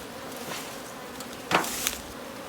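Honey bees buzzing around an open hive during a honey harvest as frames are moved, a soft, steady hum with a couple of sharp knocks from the hive boxes, no voices.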